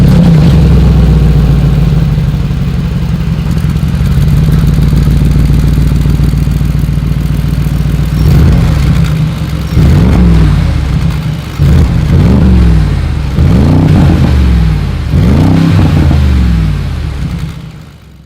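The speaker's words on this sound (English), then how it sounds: "As always, here is that exhaust clip." Mercedes G-Class side pipe exhaust revving loudly: a steady deep idle rumble, then a series of about five sharp throttle blips in the second half, each rising and falling, close up with no talk.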